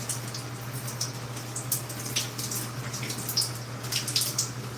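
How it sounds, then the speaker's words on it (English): Water runs steadily while hair is rinsed, a soft continuous splashing with scattered brighter drips over a low electrical hum, with no voices. "So I'm just rinsing my hair."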